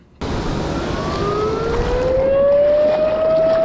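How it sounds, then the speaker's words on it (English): A loud warning siren, sounding as water was about to rise, starts abruptly and holds steady, its pitch slowly rising over a constant roar of noise. "Then, a loud siren broke the silence."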